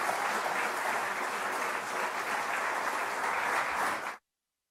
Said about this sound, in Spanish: les pedimos a todos nos regalen un fuerte aplauso